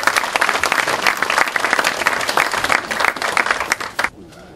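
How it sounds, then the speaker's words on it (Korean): Audience applause for three candidates after their policy speeches at a parliamentary floor leader election, steady dense clapping from a seated crowd that stops abruptly near the end, leaving quiet room tone. "지금까지 정견 발표를 해주신 후보자 3분께 큰 격려와 큰 박수를 보내주시기"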